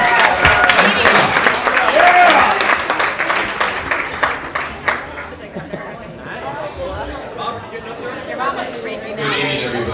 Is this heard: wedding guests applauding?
yes